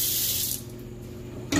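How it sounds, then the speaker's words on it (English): A cup of water pours into lemon pie filling made with fresh-squeezed lemon juice, a steady close splashing that stops partway, then a brief louder splash at the end. "Going to put 1 cup of water here."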